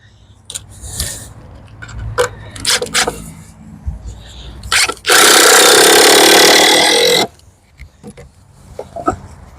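A power drill drives a 2.5-inch screw into wood while building a potato box, one loud sustained whir of about two seconds framed by clattering handling and tool knocks.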